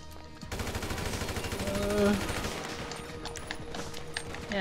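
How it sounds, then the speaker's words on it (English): Gunfire from several directions in GTA V Online, a dense rattling stream of rapid automatic shots that starts abruptly, holds loud and close, then thins into scattered cracks. "I got people shooting from more than one side"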